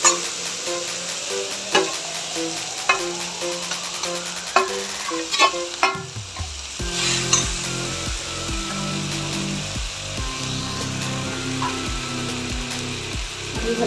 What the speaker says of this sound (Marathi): तर आता ही कैरी किसलेली कैरी टाकून घेऊया.